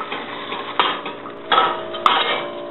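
Rubbing grease into a metal popover pan with a bag, close light metallic scraping and clinks with a few sharper knocks against the tin, no talking.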